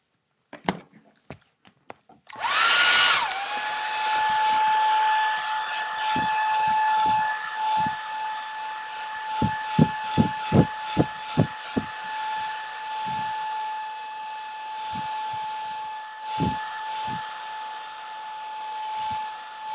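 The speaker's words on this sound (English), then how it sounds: "I'm just gonna blow dry it again." Hair dryer blowing on freshly painted toenails during a French pedicure, starting after a few clicks and then roaring steadily and loudly with a constant whine, while repeated knocks and taps sound through it.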